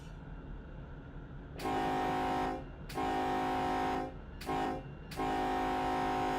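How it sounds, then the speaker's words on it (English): Locomotive horn sounding in Run 8 Train Simulator, a heavy oil train crossing Tehachapi: four loud, sustained blasts in a long-long-short-long pattern, with a low rumble running beneath and between them. "I honked. Everybody heard it."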